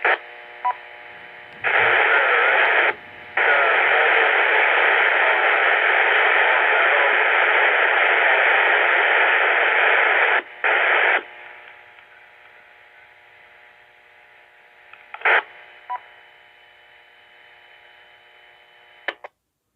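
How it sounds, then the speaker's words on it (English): Amateur radio emergency net transmission buried in harsh static, a long burst of loud noise broken by brief gaps, then fading to a quieter hiss with a few sharp clicks and squelch pops. "I was unable to copy the last station transmission."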